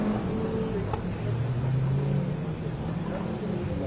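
Race car engine droning steadily at Mallory Park circuit during a Quick60 Challenge race, a continuous low rumble from the track without clear passes or gear changes.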